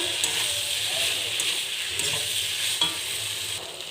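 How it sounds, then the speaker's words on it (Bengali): Potatoes stir-fried in a pan with tomato and spices give a steady close sizzle, with a few soft scrapes of a spoon through the food. "এবার ভালো করে আলুটা কষাবো"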